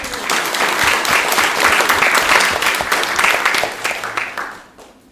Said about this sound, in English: Round of applause for Hailey.